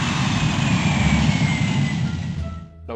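Airplane sound effect played on a Yamaha PSR-E283 keyboard: a loud, steady engine roar with a high whine that holds for nearly three seconds and then drops off abruptly at the end.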